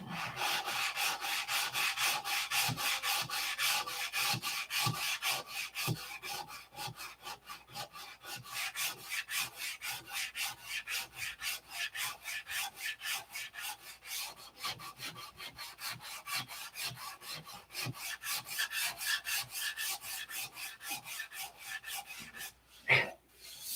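Primer being sanded down by hand on a surface, a steady, rhythmic back-and-forth rasping scrub heard close up for a long stretch with brief pauses and no talking.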